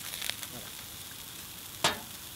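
Sweet potatoes frying on a hot plancha griddle, a steady close sizzle with a few brief scraping stirs and one sharp utensil clack.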